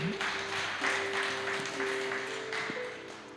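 Soft, distant applause from a church congregation, a diffuse wash of clapping under a sustained organ-like tone, quiet throughout.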